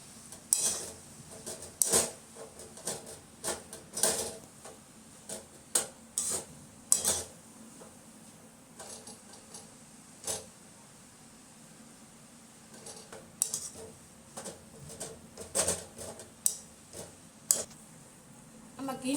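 Grated carrot stirred in ghee in a pan for gajar halwa, with repeated scraping clinks of a spoon against the pan and a soft background sizzle, close and fairly quiet, in irregular bursts of stirring.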